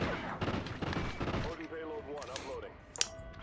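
Gunfire in the video game Call of Duty: Ghosts, a few sharp shots and bursts mixed with game effects and music, with voices talking over much of it and a single loud crack near the end.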